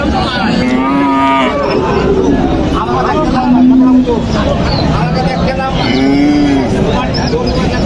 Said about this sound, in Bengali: বিশাল বড় একটা বিগ সাইজের সার গরু এটা